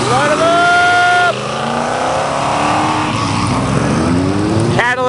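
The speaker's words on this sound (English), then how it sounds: "Banging off the rev limiter, way to do it." A 1967 Chevelle SS with a 396 engine revs hard and loud against its rev limiter, its pitch climbing and falling through repeated runs, with crowd noise and other engines around it at a car show.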